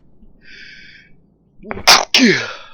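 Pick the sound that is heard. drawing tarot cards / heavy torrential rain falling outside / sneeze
sneeze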